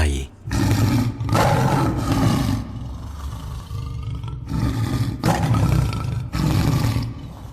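A tiger roars in several loud, deep bursts separated by short pauses, close and powerful.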